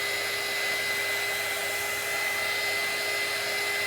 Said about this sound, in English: I'm going to dry this out a little bit with my little heat gun here